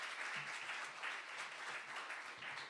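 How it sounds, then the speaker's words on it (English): Audience applause at a panel forum event, a steady dense wash of clapping from many hands, moderately faint, continuing evenly throughout. "So give them a big round of applause."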